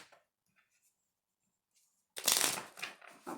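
After near silence, a burst of tarot cards being riffle-shuffled rattles up close, loud and crisp, then tapers off with a few softer flutters.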